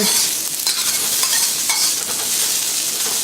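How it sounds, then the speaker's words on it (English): Ginger and garlic searing over high heat in a pan for a beef stir fry, a loud, dense, crackling sizzle throughout with light scraping of a utensil, no speech. "So get a good sear on the aromatics, the ginger and the garlic."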